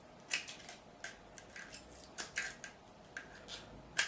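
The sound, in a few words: scissors cutting through strips of tape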